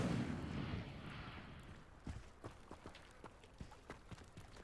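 A fire spell igniting a pyre in the Hogwarts Legacy video game, a soft whooshing roar at first that fades into a string of sharp crackling pops and thuds, fairly quiet.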